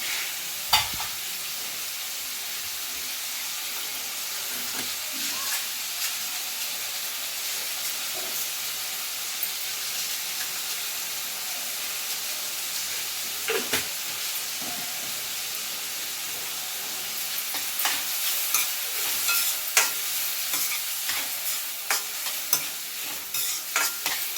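Oil sizzles and hisses steadily as tomatoes fry in a pan, with occasional clinks and scrapes of stirring breaking through the continuous frying noise.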